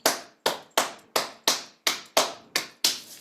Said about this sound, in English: rub the hands, get a little heat there, maybe clap 10 times